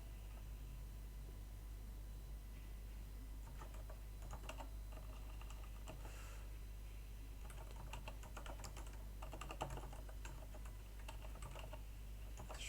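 Rapid keystrokes on a computer keyboard come in bursts of soft clicks over a steady background hum, with a brief louder tap like an enter key near the end.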